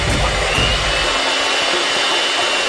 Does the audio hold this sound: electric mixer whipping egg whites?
yes